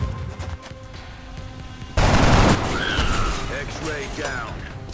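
A loud burst of gunfire from XCOM: Enemy Unknown erupts midway and lasts about half a second, then gives way to game effects and chatter over a steady background of game sound.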